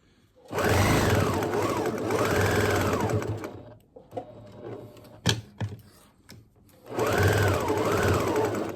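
A sewing machine stitches a fabric face mask in two loud, sustained whirring runs with a rising and falling pitch, separated by a pause filled with handling clicks and light knocks as it backstitches over the elastic.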